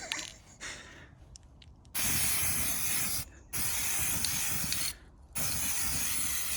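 Grey primer hisses from an aerosol can onto steel wheels in three sustained bursts with short pauses between, preceded by quieter handling noises.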